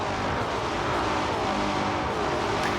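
Mercedes-Benz W 196 R race car engine in Gran Turismo 7, a steady continuous drone with a dense, buzzy tone, held at a constant moderate level throughout with no voices.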